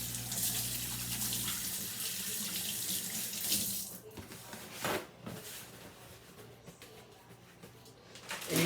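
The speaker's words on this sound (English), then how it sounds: "let me wash my hands first." Tap water runs steadily into a kitchen sink while hands are washed during roast pheasant preparation, a loud continuous splash that breaks into uneven gushes and drips near the end.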